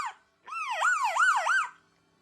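A pet parrot named Kelo mimics an American police car siren, a clear rising-and-falling wail of about four cycles, close and alone after a brief chirp.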